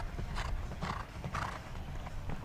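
A show jumping horse galloping in a 1.45m speed class, hoofbeats pounding in a quick steady rhythm, close and loud.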